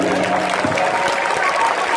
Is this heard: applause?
yes